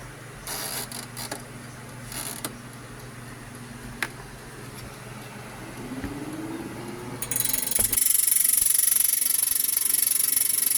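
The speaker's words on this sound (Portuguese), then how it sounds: "Quando a hélice do ventilador começa a fazer isso" A home air fryer's fan blade scraping and rattling with loose iron filings inside, a steady mechanical whir with ticking, ratchet-like clicks that grows louder and harsher toward the end.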